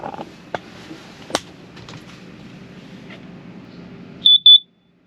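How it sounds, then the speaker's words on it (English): An RV's carbon monoxide alarm sounds a quick burst of three sharp, high electronic beeps at the very end. Before it come a quiet interior hum and a few scattered clicks and knocks. "That's the carbon monoxide alarm."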